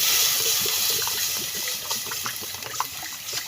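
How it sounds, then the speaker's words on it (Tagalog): Water gushes steadily into a cooking pot for a sotanghon and chicken dish, a loud, continuous splashing pour that softens slightly toward the end. "Lagyan natin ng tubig."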